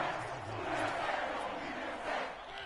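Dense, steady roar of a stadium crowd cheering at a Saints vs Bengals football game, with a commentator talking over it throughout.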